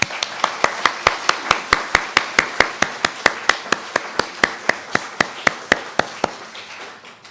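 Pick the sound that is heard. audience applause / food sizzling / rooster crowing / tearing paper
audience applause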